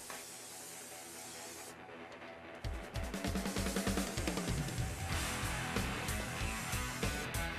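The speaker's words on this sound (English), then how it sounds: "using spray adhesive, we'll glue the foam blocks together." Quiet background, then a hissing can of spray adhesive starts and continues steadily with a rattling, pulsing texture, close to the listener, coating foam blocks.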